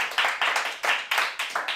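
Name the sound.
audience applause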